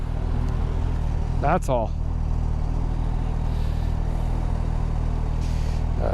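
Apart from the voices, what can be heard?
Suzuki GSX-S1000GX motorcycle engine while riding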